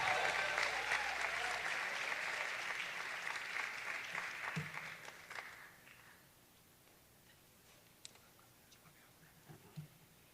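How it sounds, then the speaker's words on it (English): An audience at a board of education meeting and award evening claps for a speaker, a moderate wash of applause that tapers and dies away about halfway, leaving a quiet room with a few faint clicks. "let's give him a round of applause"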